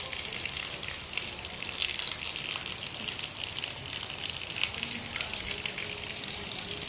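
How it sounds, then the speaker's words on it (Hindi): Heavy rain pours down with water gushing steadily in a rural village in Telangana, India, a dense continuous hiss that stays loud and unbroken throughout. "पानी घणो पड़ रो"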